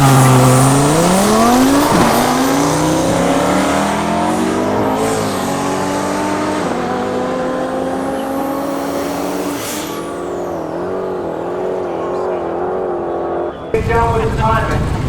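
A 1200 hp twin-turbo Audi R8 race car accelerates hard, its engine note loud and close as it climbs and holds a high roaring pitch for several seconds.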